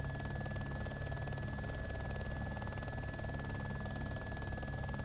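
Video-game helicopter droning with a steady, faint rotor buzz and a constant high whine, continuous with no talk.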